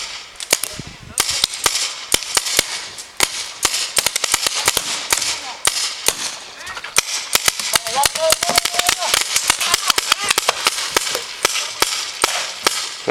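Paintball guns fire in a rapid, dense barrage of sharp cracks and pops during an outdoor game. The shots come in bursts close by and farther off, with faint voices underneath.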